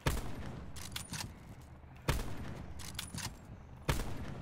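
Gunfire from the Call of Duty Blackout battle royale game, with three distinct bursts of shots about two seconds apart, each a sharp crack trailing into a rumbling echo over steady background game ambience.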